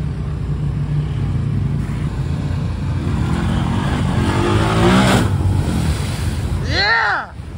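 A Can-Am off-road vehicle accelerates hard during an off-road outing. The engine roar builds and surges loud amid wind and splashing noise, then cuts off as voices shout and cheer.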